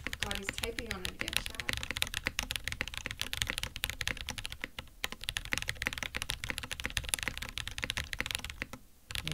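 Typing on a Frog TKL mechanical keyboard, a dense stream of quick clacky keystrokes at a fast, uneven rhythm, close and steady, with a brief voice near the start and a short pause near the end.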